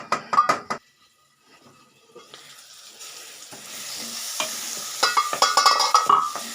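Onion, peas and brinjal sautéing in a pan for baingan bharta, with a spoon stirring and scraping against the metal in sharp clicks at the start and end, and a steady sizzle building underneath.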